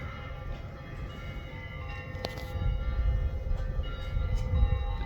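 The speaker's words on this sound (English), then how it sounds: "You hear the church bells from the Catholic Church." Faint church bells ring out over a steady low rumble on a rooftop in Greece, with distant traffic-like noise building toward the end.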